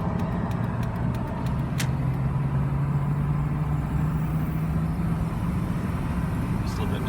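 2002 GMC Sierra Z71 pickup pulling onto a highway in first gear, a steady low engine drone with a slowly rising hum, heard from inside the cab with a few faint clicks early on.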